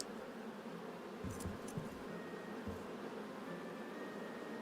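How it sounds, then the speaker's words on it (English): Bees buzz steadily around an overgrown hut and bear-head decorated lodge in the video game Return to Moria, a continuous insect drone with a couple of brief soft knocks partway through. "Just listen to those bees."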